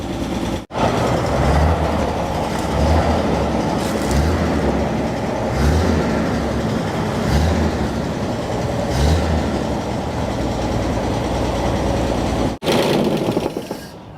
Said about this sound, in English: That's just some valve clatter.